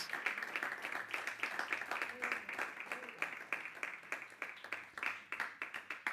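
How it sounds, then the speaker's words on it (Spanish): Church congregation clapping during a Sunday service, a faint, distant patter of many hands with uneven rhythmic bursts continuing throughout, no one speaking over it. "Denle un aplauso al Señor."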